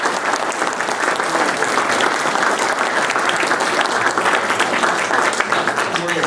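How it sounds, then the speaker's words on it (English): An indoor audience at a historical society speaker night claps after a talk on the English Dam disaster of 1883, producing steady, dense applause that carries through the whole stretch with no pause. "Let's give one a round of applause."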